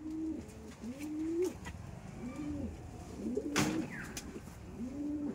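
Red Madrasi pigeons cooing in a loft, a steady series of repeated soft rolling coos close by, with a few clicks and knocks among them and no talking.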